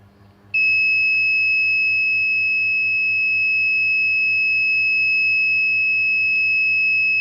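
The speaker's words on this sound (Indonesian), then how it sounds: "alarm 1 telah berbunyi" An ESP32 IoT alarm buzzer kicks in after a brief quiet moment and holds a loud, steady, high electronic tone for several seconds, with a faint low hum beneath it.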